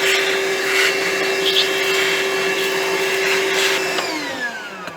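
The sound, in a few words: vacuum cleaner sucking up rust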